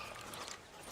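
Horse hooves clip-clop softly in a Red Dead Redemption Wild West game scene, a faint, steady patter for about a second with a louder click at the end.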